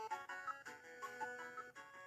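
Chiptune music from the NES game Kirby's Adventure plays faintly as a bright melodic line of square-wave notes over a steady backing, quiet and without talk.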